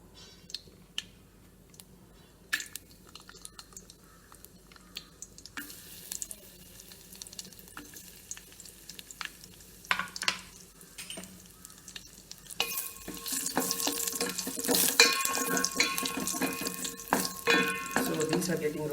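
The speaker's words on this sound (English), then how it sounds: "so these dry fruits I'm going to add and roast. So starting with cashews." Cashews roast in a pan for Udupi-style Kashi halwa, giving a steady low sizzle and occasional stirring scrapes that get louder and busier in the last third, with no talk.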